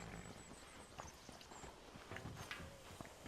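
Horse hooves clip-clop at a steady walking pace in Red Dead Redemption 2, fairly close, mixed with faint game ambience and light background noise.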